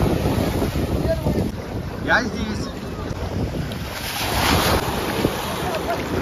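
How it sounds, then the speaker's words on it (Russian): Strong wind buffets the microphone while waves roll and break on a sea beach, a loud, constant roar with surges, and a brief spoken voice in the middle. "Сегодня у нас сильный ветер опять."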